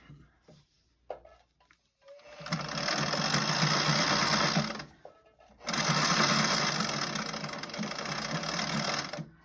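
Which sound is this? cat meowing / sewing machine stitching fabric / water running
sewing machine stitching fabric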